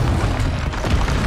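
Confringo fire spell explosion in Hogwarts Legacy, a short dense rumbling blast filling the low end, loud and close, with no voice over it.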